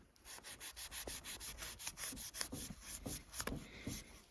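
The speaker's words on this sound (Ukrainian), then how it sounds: "Канат має серйозний абразив тому різати його нелегко." A Grand Way 027 UB scout knife saws back and forth through abrasive rope in a quick, regular run of rasping strokes, close and fairly quiet.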